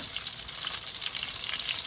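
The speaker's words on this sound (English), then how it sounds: "I'm going to continue frying the veal cutlets" Breaded veal cutlets frying in a pan, a steady close sizzle and crackle of hot oil with no voices.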